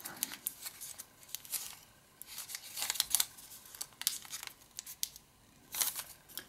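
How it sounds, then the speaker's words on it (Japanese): Origami paper being folded by hand, creased forward and then folded once more, giving soft crinkling and rustling bursts in an uneven rhythm, close and fairly quiet, with no speech. "このように前に折って、さらにもう一度折ります。"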